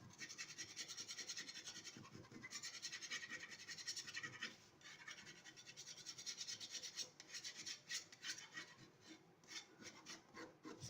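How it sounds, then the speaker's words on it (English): A scraping tool rasps over chalk-painted wood to distress it, producing continuous close scratching strokes in a steady back-and-forth rhythm with a few short pauses. "I'm taking the scraping tool again."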